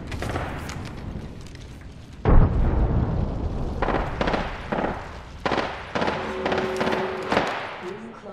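A frag grenade explodes in the Apex Legends battle royale game with a sudden loud boom, followed by dense gunfire, impacts and chaotic combat noise, while voices talk over the action.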